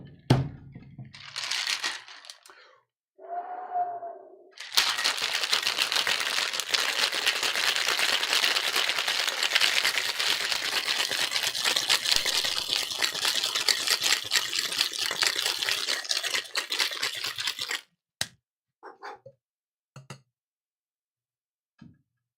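Ice and liquid rattle hard inside a cocktail shaker as Colonel Beach's Plantation Punch is shaken vigorously for about thirteen seconds. The loud, dense rattling follows a few brief, scattered handling sounds, then stops abruptly, leaving light clinks.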